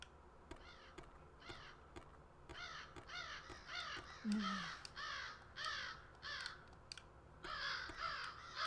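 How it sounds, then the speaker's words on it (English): Several crows caw in a steady series of harsh calls in a video game, fairly close, one after another, with faint background noise. "Let's scare away the crows."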